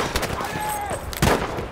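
Machine gun fire in the Battlefield V campaign, Tirailleur mission, on PC: dense, crackling gunfire and battle noise that runs throughout, with a louder burst near the end and a voice talking over it.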